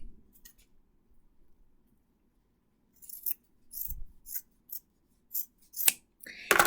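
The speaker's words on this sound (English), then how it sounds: "then you take the scissors. You cut right here." A run of crisp scissor snips cutting through a sock, six or seven quick cuts in an irregular rhythm after a quiet start, close by.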